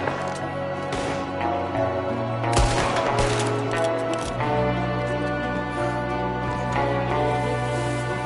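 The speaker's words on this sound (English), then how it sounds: "There's another one shooting from the window." Gunfire from a shooter at a window in Red Dead Redemption 2, a dense stretch of overlapping shots and fusillade-like bursts over a steady game soundscape, loud and continuous with no talk.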